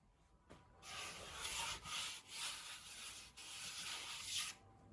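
Sandpaper rubs over a car audio center console fitted with tweeter holes and trim rings, in several long, even strokes separated by short pauses, close and fairly quiet.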